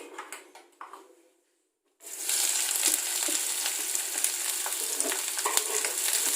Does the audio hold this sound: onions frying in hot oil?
yes